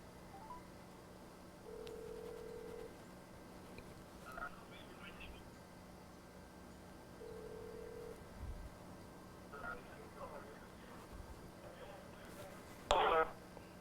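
Telephone dialing tones on a live call to phone scammers, two steady mid-pitched tone bursts repeating over a low hum with faint background chatter and a brief louder burst near the end.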